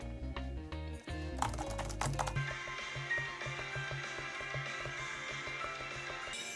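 Apple Magic Keyboard keys tapped in quick rhythmic bursts while a rhythm game plays, the light clicks running steadily under loud, beat-driven game music throughout.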